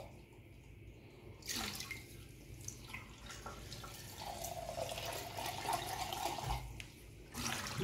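Water runs and splashes as sprouting wheat grains are rinsed, a steady trickling stream with brief pauses and shifts in flow, heard close and fairly quiet.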